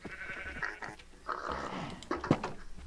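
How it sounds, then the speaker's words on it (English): Sheep bleating in the Minecraft video game, a few loud close bleats in quick succession with no talk over them. "you stupid sheep. You better go away."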